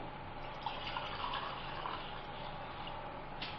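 Water being poured into a container during a classroom capacity lesson, a steady continuous splashing stream running throughout with no talking.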